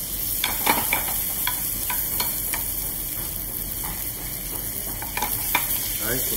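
Yellowtail searing in a pan to brown it for a red-wine simmered yellowtail and daikon dish, a steady close sizzle with light, evenly spaced ticking taps of a utensil, no talk.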